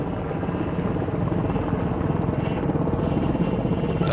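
Helicopter in the video game Warzone 2.0, a continuous loud rotor chop and engine roar with no breaks, close and dominating throughout.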